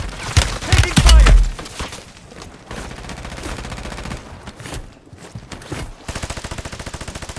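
Gunfire in a multiplayer shooter on Ashika Island, with loud bursts of shots and booming impacts early on, then steadier, quieter rattling and popping of distant weapons carrying on through the rest.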